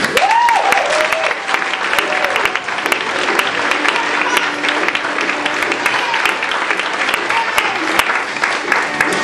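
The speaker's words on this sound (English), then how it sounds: "Everyone please applaud for Louise Palanker, everybody." A comedy club audience applauds as a stand-up comedian takes the stage, sustained loud clapping mixed with cheers and a whoop near the start.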